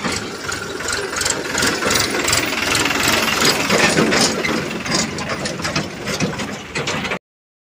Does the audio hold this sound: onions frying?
no